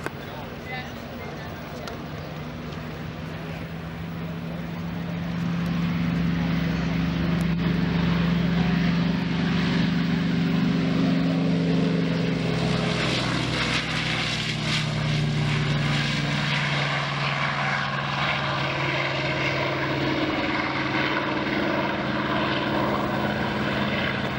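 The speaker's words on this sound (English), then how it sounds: "And the Corsair with John Correnti at the controls is rolling for takeoff" A Corsair propeller warplane rolls for takeoff at an airshow, its piston engine droning and then swelling to a louder, sustained growl with a wavering tone, while an announcer talks over it.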